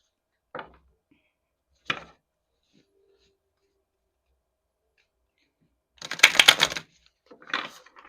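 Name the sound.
shuffling a deck of cards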